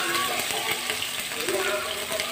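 Ginger-garlic paste fries in a pan of oil with whole spices for chicken lapeta, giving a steady close sizzle with light stirring while someone speaks over it.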